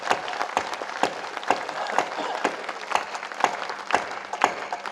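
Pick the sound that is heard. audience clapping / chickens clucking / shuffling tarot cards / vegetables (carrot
audience clapping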